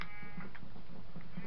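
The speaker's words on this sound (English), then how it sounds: "I'm killing sheep, so I can have" Sheep bleating in Minecraft on PS4, a few short wavering bleats close by, alternating with soft ticking game sounds, with no talking.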